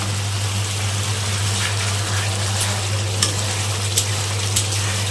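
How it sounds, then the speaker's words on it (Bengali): Spice masala sautéing with added water in a pan for a vegetarian curry, a steady close sizzle and bubbling with occasional light stirring clicks, no voices. "জল দিয়ে আবার কষাবো।"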